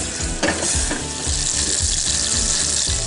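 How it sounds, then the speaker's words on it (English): Mustard seeds and star anise sizzle and fry steadily in hot butter in a pan, a dense continuous crackle with occasional sharper pops and stirring clatter throughout. "those mustard seeds and the star anise, they've just been sautéed off in the butter"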